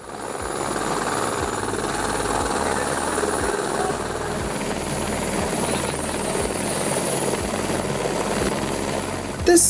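A rescue helicopter flies over a cliff area in Rio de Janeiro with a steady, loud rotor chop and turbine whine that holds throughout.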